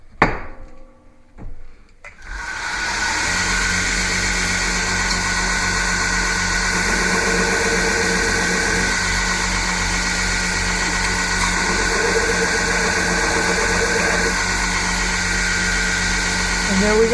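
A grinder runs steadily on the bevels of a stag-handled Bowie knife blade at a finer grit, a loud, continuous whirring grind that starts after about two seconds of quieter handling noise.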